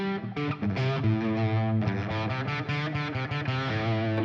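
A mildly overdriven electric guitar plays chords and single notes with a softened, cleaner edge, ringing steadily without any voices.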